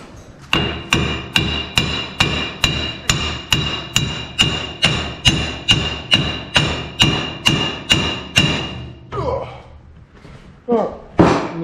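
Steady, evenly spaced hammer strikes on the drum brake parts of a rusty Bronco, about seventeen sharp metallic blows in a row at close range, then a few irregular knocks and handling noises with a voice.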